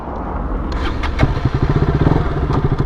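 A motorcycle idles in neutral before being shifted into gear, giving a soft clunk followed by a steady, close, thumping engine putter at a quick even rhythm, with no voices.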